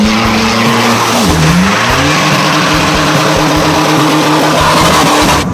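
A car brakes hard and its tires skid and squeal in a long, loud screech with engine noise underneath, the pitch of the squeal wavering as the car slides.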